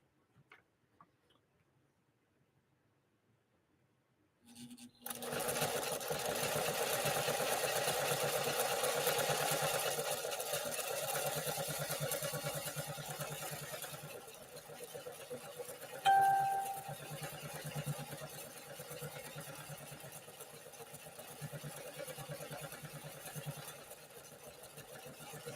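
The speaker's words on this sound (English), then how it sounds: "we'll try stitching this off now" A 1960 Pfaff 230 sewing machine starts after a quiet moment and runs steadily, a continuous whirring motor hum with fine rapid ticking of the needle, a brief click midway, then carrying on slightly softer.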